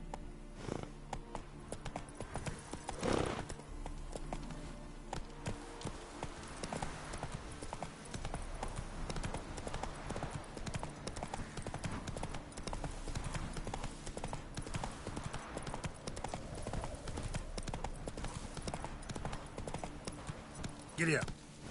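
The horse Roach gallops in The Witcher 3: Wild Hunt, its hooves clattering in a quick, continuous rhythm close by, with a voice talking over the hoofbeats.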